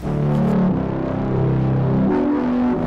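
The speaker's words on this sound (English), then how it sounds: "I will add a third note just for a reference, so you can hear how muddy it sounds." A muddy, heavily distorted guitar chord with an added third note layered on a power chord for a beat, droning thick and loud for about three seconds with no talk.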